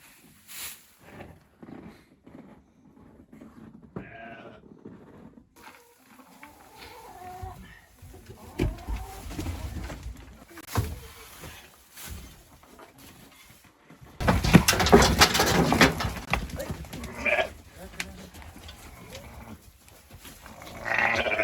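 Sheep bleat repeatedly in a Tatar village pen, some close and loud, others farther off, amid scattered animal calls and a burst of commotion.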